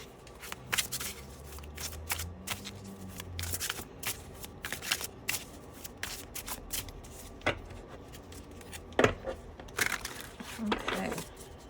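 Playing cards shuffled and a card drawn from the deck during a tarot-style reading, soft riffling and slapping bursts scattered across the stretch with a few sharper snaps near the end, a voice talking quietly at times.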